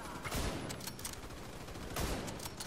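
Gunfire in the video game The Division 2 during a co-op firefight: dense, continuous bursts of shots with two louder volleys, heard fairly close amid game noise, with little talk.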